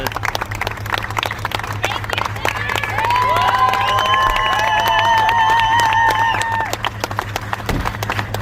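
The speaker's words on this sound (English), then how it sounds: "they're cheering this guy like he's an historic figure" A crowd cheers and applauds for one man, a steady roar of clapping and shouting with whistles rising through the middle, a busy dense sound under a low constant hum.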